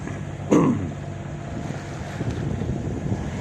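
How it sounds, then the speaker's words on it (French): Wind blowing across a sailboat at sea off a rocky coast, a steady rushing buffet against the microphone with a brief louder gust near the start and continuous low water and hull noise beneath. "Le vent, il y a un peu de vent."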